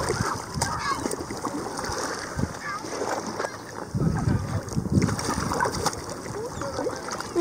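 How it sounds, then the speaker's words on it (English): A kayak paddled along a shoreline at sunset gives irregular close splashes and water swishes amid light wind buffeting, with people talking intermittently over it. "We are shoreline kayaking."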